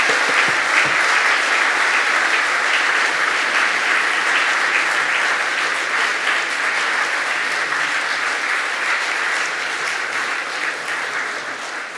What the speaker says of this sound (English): Let us give a round of applause to the Dean.